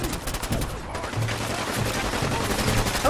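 Sustained gunfire in Fallout 4, a dense continuous rattle of shots filling the scene at steady loudness, with no talk over it.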